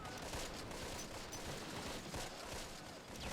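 Dense, continuous gunfire crackles and rumbles through a battle in the WWII strategy game Close Combat: The Longest Day at Carentan, a steady fusillade with scattered shots, no voices.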